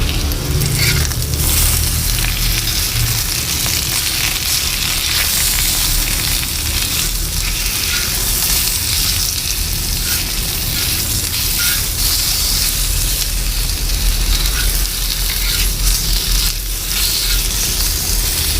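Potato pieces fry in hot oil on a hot plate with spices, giving a loud, dense sizzle that holds steady and close throughout with no talking.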